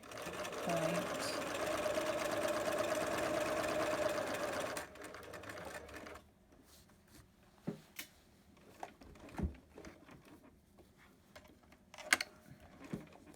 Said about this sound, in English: pivot, turn, double sew over that elastic.